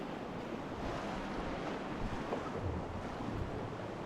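Whitewater roars through a desert river rapid at flood stage, churning around large boulders that form big holes beside a sandstone wall; a loud, steady rush fills the scene with wind buffeting the microphone and no voices.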